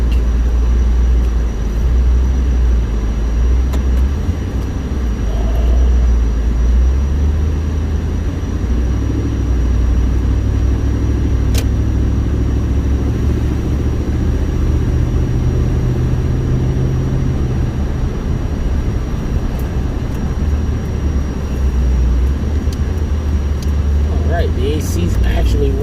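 A car drives along the road on the way to a scrapyard, giving a loud, steady low engine and road rumble that holds without a break throughout.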